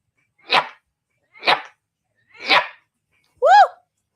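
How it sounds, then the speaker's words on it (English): A series of four short, sharp sneeze-like bursts spaced about a second apart, close and loud, the last one more voiced and tonal. "excuse me. I gotta sneeze."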